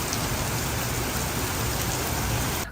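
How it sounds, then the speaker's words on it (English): Heavy rain pouring down in Singapore, a dense, steady roar of water hitting surfaces, close and constant without pauses or voices. "Look at this rain. I'm in Singapore and it's raining"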